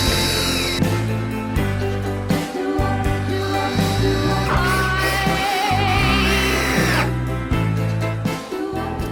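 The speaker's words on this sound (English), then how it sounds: "I'm just drilling guide holes." A power drill bores guide holes into stained wood boards at a Canadian cabin, a loud motor whine that speeds up and bogs down in several bursts, no talk.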